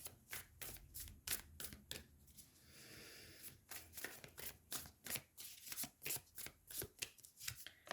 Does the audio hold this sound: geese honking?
no